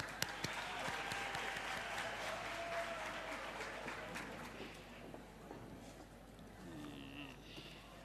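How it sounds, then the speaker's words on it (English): An audience applauds at a campus community safety programme launch at the University of KwaZulu-Natal, steady sustained clapping heard from a distance in a hall, fading slightly toward the end. "A round of applause, please."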